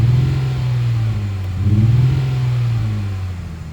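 A Ford Freestyle with its muffler cut off revs from inside the cabin, the engine droning low, swelling with a throttle blip midway, then settling back to a rough idle.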